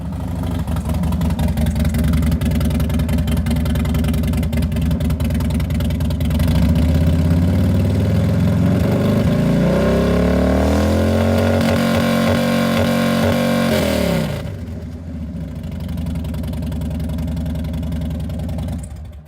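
A car engine idles loudly, then revs up, its pitch climbing and holding high for several seconds before dropping back to a rough idle.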